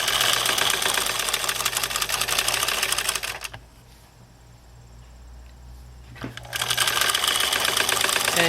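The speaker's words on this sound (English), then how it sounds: "stitch on the same row of stitching as the previous row, and again stretch between your hands behind and in front of the presser foot" A sewing machine runs fast, stitching a rolled hem in chiffon on a wedding dress, a dense rapid whirring rattle that stops for about three seconds of quieter handling and then starts up again.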